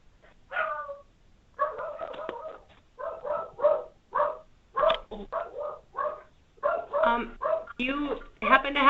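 A puppy or larger dog yips and barks in repeated short bursts over an open conference-call line, fairly close and insistent, with some whimpering and voices mixed in.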